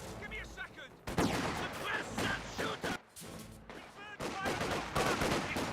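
Rapid bursts of small-arms fire crackle in dense, overlapping volleys as infantry squads trade shots in the Company of Heroes 2 real-time strategy game, with brief lulls between loud clusters and game effects layered in.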